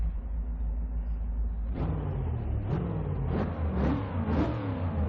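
A rough, lumpy cammed V8 engine in a Mazda Miata in the game Forza 6 idles, then revs up in several quick, rising bursts, each blip climbing and falling back, loud and close.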